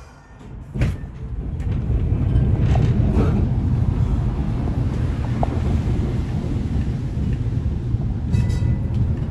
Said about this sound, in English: We can hear the motors pretty well,